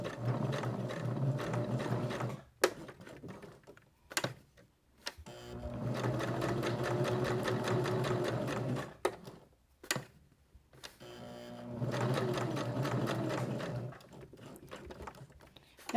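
A sewing machine stitches fabric in three long runs of rapid mechanical whirring and clatter. Brief quiet gaps separate the runs as the needle stops and starts.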